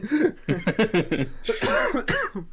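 A man coughing in a run of harsh, throaty bursts, close and loud, with a short pause before a longer rasping cough at the end.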